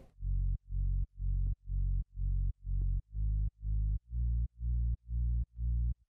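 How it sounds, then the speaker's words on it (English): Deep sub bass from Reason's Monotone bass synthesizer blending saw and sine waves under a low-pass filter, a dozen evenly spaced sustained notes pulsing in a steady rhythm with nothing else heard. "Reason's monotone bass synthesizer."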